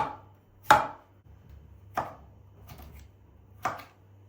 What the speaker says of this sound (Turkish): Tavuklar fırında pişerken Patatesini doğrayalım.